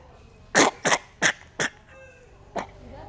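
A child with whooping cough coughs in a quick burst of four harsh coughs close by, followed by a pause and one more cough, with faint background sounds.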